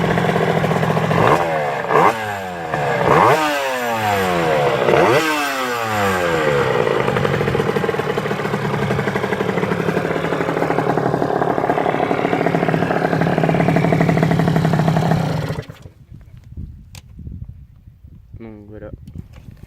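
Yamaha DT50 supermoto motorcycle engine, warm from a ride, revving sharply several times and then idling with a rough, buzzy two-stroke note before cutting off, followed by someone speaking close by.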